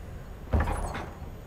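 A single door swinging open in the video game Warzone, a short low creak and thump that swells and fades within about half a second over a quiet background.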